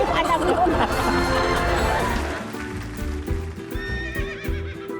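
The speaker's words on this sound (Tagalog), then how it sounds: "nakakatuwa tong mga kabayo dito" Horses neigh and whinny while hooves clip-clop nearby, with people chattering in the background at a horse stable.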